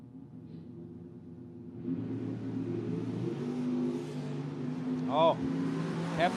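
Drag race cars at a Sean Serra Memorial event idle and rumble at the starting line after a nitrous purge, a louder engine roar building midway with a brief high revving squeal near the end, heard at a distance under a PA announcer talking.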